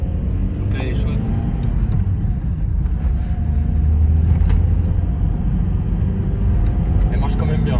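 A 2002 Opel Zafira 2.2 DTI diesel minivan driving, with a steady low engine and road rumble heard from inside the cabin and occasional small rattles.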